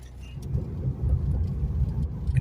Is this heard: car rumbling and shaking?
yes